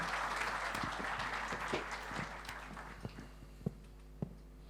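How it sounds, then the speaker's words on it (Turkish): Fairly faint audience applause welcoming the minister of national education to the stage, dense clapping at first that thins out into a few scattered, distinct claps. "Alkışlarınızla Milli Eğitim Bakanımız Sayın Mahmut Özer'i davetimi arz ederim."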